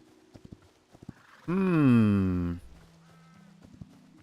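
Skeleton horse in the Hytale video game, a series of sharp hoof clops around a long, loud whinny, with a faint voice in the background.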